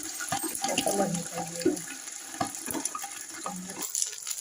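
Water splashes and sizzles as it is poured into a pot of browned onions for mixed vegetable pulao, with bubbling, scattered clinks and brief talk over the cooking.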